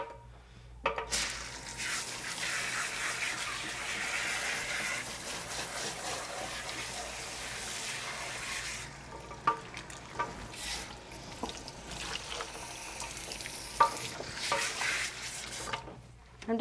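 Water runs from a tap over a conditioned wig being rinsed, a soft steady splashing and trickling with a few sharper drips and handling sounds, fairly quiet and close.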